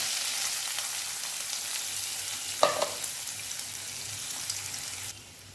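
Onion, cloves, black pepper, curry leaves and dried red chillies sauté in a pan with a steady, close sizzle, a brief louder clatter midway, then the frying noise drops sharply near the end.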